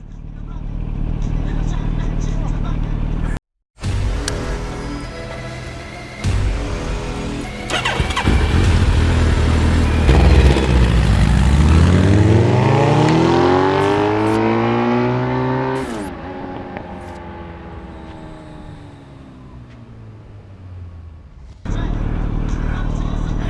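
A Kawasaki Ninja 650 motorcycle engine starts, then revs up in long rising sweeps before settling back to a steady idle, loud and close, with people talking briefly around it.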